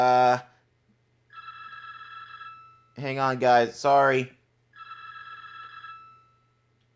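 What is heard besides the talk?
phone ringing in the background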